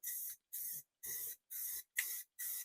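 Six short bursts of aerosol spray hissing in a steady rhythm, each about a third of a second with brief silent gaps between.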